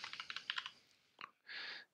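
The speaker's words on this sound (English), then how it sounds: "press the keys on your keyboard" Keys are pressed on a Windows keyboard used with Mac OS, a quick burst of soft clicks followed by a single sharper tap and a brief higher-pitched hiss, all close and quiet.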